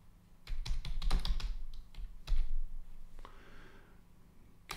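Keys clatter on a computer keyboard as JavaScript code is typed, with bursts of quick clicks and short pauses that sit close and clear, alone without any talking.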